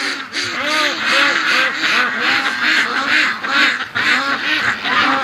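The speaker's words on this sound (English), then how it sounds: "And the ducks just woke up with me coming outside." Ducks quacking outside at a backyard flock with Muscovies, many overlapping nasal quacks in a steady, busy chorus close by, some higher calls mixed in, continuing without pause.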